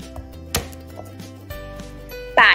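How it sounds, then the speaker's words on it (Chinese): Kitchen knife blade slapped down onto garlic cloves on a cutting board, a single sharp smack followed by a few softer taps and a brief scraping burst at the end, close and clear over quiet background music. "然后拍打蒜头"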